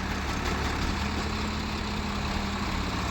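A tractor engine idles at slow revs in low gear during a tractor tug-of-war contest, giving a steady, loud, low rumbling hum throughout with no pauses.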